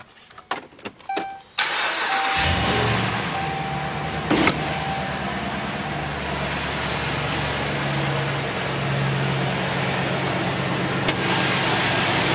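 A 2010 Dodge Ram 1500 pickup with a 5.7-liter Hemi V8 cranks and fires after a few light clicks, then settles into a loud, steady low idle with a brief rev bump midway.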